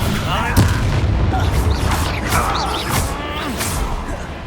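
A Bombardo explosion spell cast in Hogwarts Legacy, a heavy booming blast among rumbling combat clatter, loud and close, with voices talking over the fight.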